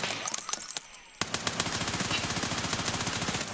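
A P90 firing in Escape From Tarkov: a loud, close volley of rapid, evenly spaced shots that starts abruptly after a brief quieter moment and keeps going in quick succession to the end.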